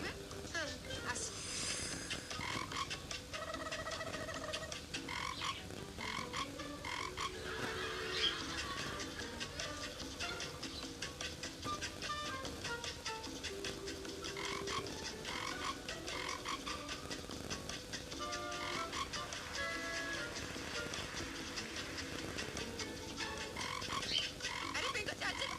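Frogs croaking repeatedly in a busy, continuous chorus of short calls, fairly faint and mixed with chatter and other background noise throughout.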